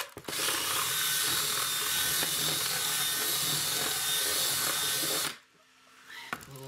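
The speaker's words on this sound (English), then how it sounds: "A little deburring." A power tool deburrs the cut edge of an opening for a solar PV isolation switch, grinding loudly and steadily for about five seconds before stopping abruptly, followed by faint handling noise.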